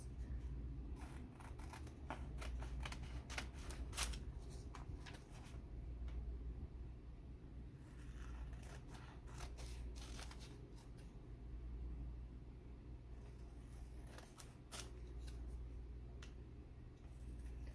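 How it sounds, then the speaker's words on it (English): Quiet, crisp snips of scissors cutting paper come in irregular clusters over a low steady hum, close and soft. "I'm just trimming around the excess"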